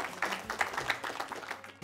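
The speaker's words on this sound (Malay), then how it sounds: "Berikan tepukan yang gemuruh." Audience applause greets a guest religious teacher on a Malay-language studio programme, a short, soft burst of quick claps lasting under two seconds.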